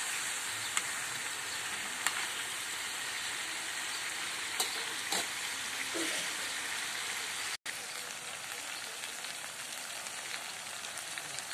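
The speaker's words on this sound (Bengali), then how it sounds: "এখন আম্মু আলুগুলোও দিয়ে দিতেছে, আলুগুলোও একটু তেলের মধ্যে ভাজা হবে।" Potatoes frying in oil alongside chicken for a spiced chicken bhuna, a continuous hissing sizzle with a few faint clinks of utensils scattered through.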